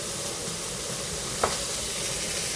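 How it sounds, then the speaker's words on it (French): Mushrooms and onions fry in a pan, a dense steady sizzle with one sharp scrape of the spatula as the pan is stirred. "je vais mélanger un petit peu ma poêle parce que j'ai pas envie que ça brûle"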